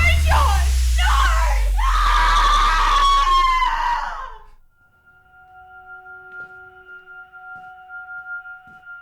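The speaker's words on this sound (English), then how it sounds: "I heard a scream from my apartment." A woman lets out a long, shrill scream lasting about four seconds that cuts off abruptly, followed by quiet with faint steady electronic tones.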